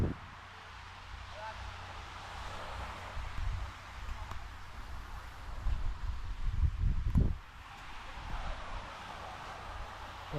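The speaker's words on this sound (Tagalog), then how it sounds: "Medyo mahangin ngayon, pero wala masyadong araw." Wind at a beach resort in El Nido, Palawan, a steady low rushing gust against the microphone that swells louder midway, then eases, with faint rustling around it.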